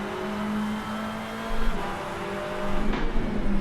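A car engine in the racing game Rennsport drones steadily with a low, constant hum, rising slightly in pitch and loudness partway through.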